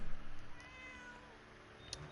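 A cat meows in a short, faint call heard against low background noise during a Fallout 4 survival game stream, with no talk over it.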